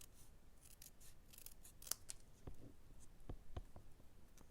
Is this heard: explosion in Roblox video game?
no